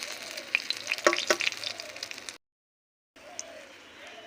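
Pumpkin leaf and red lentil fritters crackle in hot oil, a dense close sizzle with brief sharp pops, cutting out for a moment before a quieter fry resumes.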